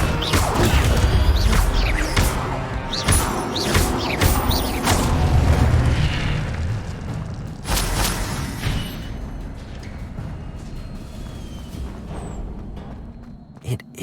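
Incendio fire spells cast in the video game Hogwarts Legacy burst out as loud whooshing blasts and booming crashes, several in quick succession and then thinning out over a steady rumble of game effects.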